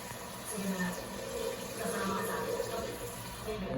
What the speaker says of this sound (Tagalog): lagyan muna ng tubig to